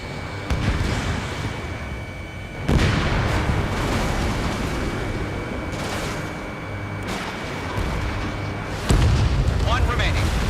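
A loud explosion as an enemy bomber is destroyed in the combat flight game Ace Combat 7: Skies Unknown, with heavy booming bursts over constant jet and engine roar while radio voices talk.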